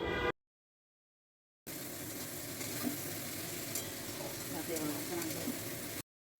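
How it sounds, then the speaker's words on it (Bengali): Potatoes and spring onions fry in a pan while being stirred, a steady broadband sizzle with soft scraping running for about four seconds after a brief gap, with no talking. "ভালো করে নেড়ে চেড়ে আলু আর পেঁয়াজগুলি ভেজে নিতে হবে"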